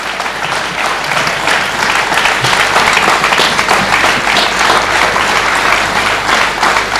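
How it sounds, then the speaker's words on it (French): A large crowd at an awards closing ceremony claps loudly and continuously, a thick wash of applause that stays strong and even throughout, with no talking heard. "Sous vos applaudissements"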